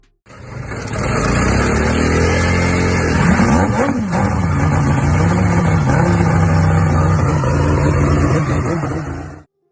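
A rare rotary-engined trail motorcycle runs steadily and loudly close by, its smooth buzzing drone rising and dipping in pitch with light throttle changes, with no other sound for nearly ten seconds.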